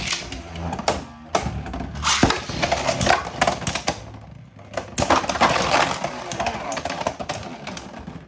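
Beyblade X spinning tops launched into a stadium and clashing, dense clattering and sharp plastic impacts with scattered bangs and rattles throughout, close and fairly loud.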